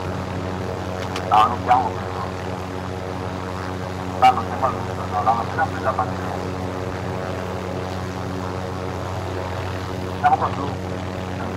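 A helicopter in the Call of Duty: Modern Warfare video game drones steadily with a constant rotor and engine hum throughout, while people talk over it and a few brief clicks and game sounds cut in.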